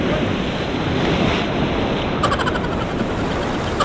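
Ocean surf rolling and breaking close by, a steady wash of broadband noise with wind buffeting the microphone throughout and a slightly brighter crash of spray near the end.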